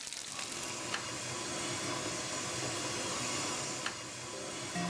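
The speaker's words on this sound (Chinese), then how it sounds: "它是半煎半炸的。" Crispy pork is half pan-fried, half deep-fried in a Teochew restaurant kitchen, giving a continuous loud hissing sizzle of hot oil with a couple of faint clinks.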